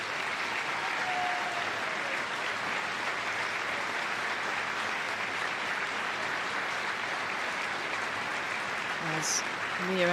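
Steady stadium crowd applause at a women's Super League football match between Tottenham Hotspur and Liverpool as player Mia Enderby leaves the pitch, a dense, continuous wash of clapping with a brief whistle-like tone near the end.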